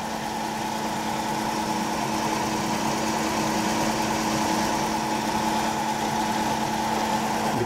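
Spindle of a Trak K3 milling machine with an AGE 3 control running steadily, a constant mechanical hum and whine with a faint tonal drone, close and even throughout, with no voices.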